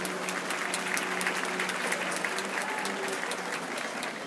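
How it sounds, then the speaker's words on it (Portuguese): Concert audience applause in a theatre, a dense, steady wash of many hands clapping at close range, holding at an even level throughout with no talk over it. "De coração, uma salva de palmas."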